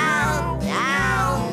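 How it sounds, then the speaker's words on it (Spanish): Cat meowing in an animated children's song, a single drawn-out, rising then falling meow over a pulsing bass accompaniment. "Pero el gato volvió nuevamente aquí."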